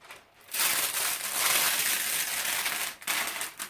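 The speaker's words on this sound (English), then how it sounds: "I very carefully pull the glassine off." A close, steady crackling rip of glassine paper being peeled from a tacky photo print, pausing briefly once before continuing.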